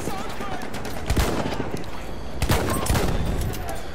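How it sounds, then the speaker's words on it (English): In an online shooter match, bursts of machine-gun fire and scattered gunshots crackle loudly and continuously under a busy battle din, with players talking over the shooting. "Machine gun over there!"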